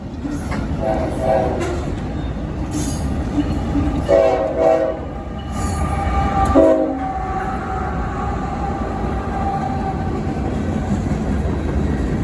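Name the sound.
freight train passing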